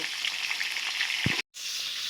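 Sundarbans pairah fish fry in hot oil in a wok with a loud, steady sizzle close by. One soft thump sounds partway through, and the sizzle cuts out briefly before carrying on.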